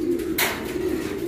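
Pigeons or doves kept by a bird raiser in Rosales, Pangasinan, giving a low steady coo, close by, with a brief rustling burst partway through.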